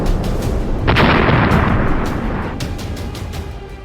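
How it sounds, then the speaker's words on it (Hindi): A HIMARS rocket strike blasts a Russian TOS-1A rocket system, a sudden loud boom bursting out of rumbling battlefield noise with a few sharper cracks of fire around it, then fading into a dull roar. "तभी हिमार्स रॉकेट जोरदार धमाके के साथ उसे तबाह कर डालता है"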